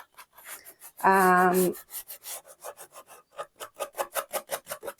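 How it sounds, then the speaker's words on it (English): Rough grade sandpaper distressing the edges of a mirror frame, scraped in quick back-and-forth strokes, close and rhythmic, with a brief loud tonal screech near the start. "get some rough grade sandpaper and I'm going to really distress up the edges"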